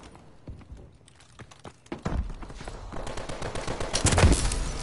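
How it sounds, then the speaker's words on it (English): SN6 submachine gun firing in Call of Duty: Advanced Warfare: sparse sharp shots at first, then sustained rapid automatic bursts growing louder and denser toward the end, with a player talking faintly. "This SN6 is a good submachine gun and all."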